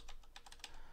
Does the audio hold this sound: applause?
no